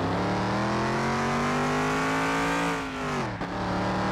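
A car engine drones loudly and steadily on a race track in the game Car Mechanic Simulator 2021, pitch shifting briefly with a quick gear change near the end.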